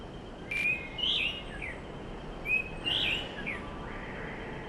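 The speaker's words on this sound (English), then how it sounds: "Orange-headed thrush is a brightly colored ground-dwelling thrush." An orange-headed thrush on the Andaman and Nicobar Islands calls twice, each a short clear whistled phrase with a rising flourish, moderately close over a steady hiss of forest background.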